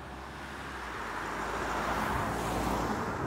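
An Opel Insignia GSi engine pulls hard under acceleration, a steady, swelling roar heard from inside the car with road and wind noise mixed in, and nobody speaking.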